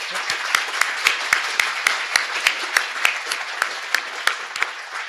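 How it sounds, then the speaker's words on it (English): Applause for a panel at a STEM career showcase for students with disabilities, a moderate crowd clapping with a few sharp, distinct close claps standing out in a steady rhythm over the wash. "Give them a big applause."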